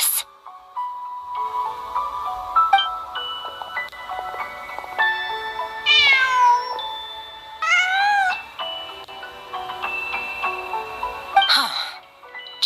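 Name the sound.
cat meowing in Genshin Impact video game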